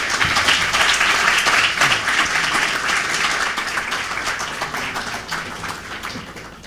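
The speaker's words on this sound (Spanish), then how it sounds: "y pido para él un aplauso" An audience at a university keynote lecture applauds a guest speaker: sustained, dense clapping from many hands, fairly loud at first and slowly tapering off.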